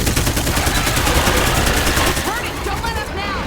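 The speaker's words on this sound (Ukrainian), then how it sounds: "Стріляє." Rapid bursts of gunfire in State of Decay 2 crackle loudly and continuously, with a voice talking underneath; the shooting thins out near the end.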